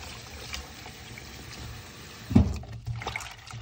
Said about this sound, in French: qu'on rince à l'eau vive